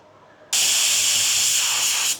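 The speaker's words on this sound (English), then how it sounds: "we're gonna go ahead and spray it" A Porphis PRD 815 paint sprayer fires a sudden, loud, continuous airy hiss of spray that starts abruptly, holds steady for about a second and a half, then cuts off.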